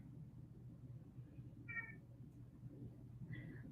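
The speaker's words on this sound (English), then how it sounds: "For those that are familiar with the cat kingdom, torties are very talkative" A tortoiseshell cat gives two short, faint meows about a second and a half apart over a low indoor hum, with no talk.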